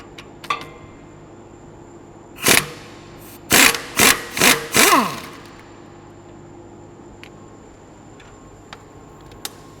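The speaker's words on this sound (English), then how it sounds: "you're ready to get a 21mm socket and begin to take this off" A 21mm socket on a power tool spins off the strut nut of an S550 Mustang suspension: one short burst, a pause, then four quick back-to-back rattling bursts in an otherwise quiet garage.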